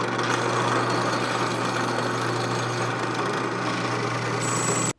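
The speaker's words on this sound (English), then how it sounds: "Okay, so I got a higher quality drill bit here, and it seems to be helping out." A higher-quality drill bit bores into very hard, likely air-hardening sheet steel in a blacksmithing shop, giving a loud, steady grinding whine that holds for about five seconds and then cuts off abruptly.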